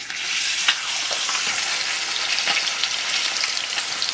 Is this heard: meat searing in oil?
yes